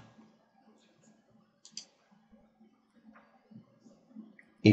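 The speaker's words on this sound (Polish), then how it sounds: "Klikam utwórz krąg z tą osobą." Computer mouse clicks made while creating a Google+ circle, with a few soft, sparse clicks in a quiet room and a louder burst right at the end.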